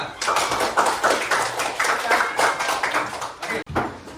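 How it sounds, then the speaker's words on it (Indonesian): A classroom of students claps in quick, rhythmic bursts, brisk and fairly loud, ending with a sharp cutoff. "Tepuk tangan buat kita semua."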